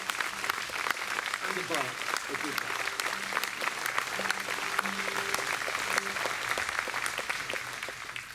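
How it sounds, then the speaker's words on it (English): An audience at a 2017 folk concert in Abbotsbury applauds the family of an instrument maker, sustained clapping with brief voices mixed in beneath it. "I think the family need a whole round of applause from all of you for everything."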